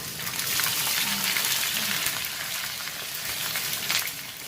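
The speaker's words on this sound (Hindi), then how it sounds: "ऑयल गर्म हो चुका है, अब हम इसमें प्याज ऐड करेंगे।" Onions fry in hot oil in a kadai, making a dense, steady sizzle and crackle close by that continues evenly throughout, with no voices.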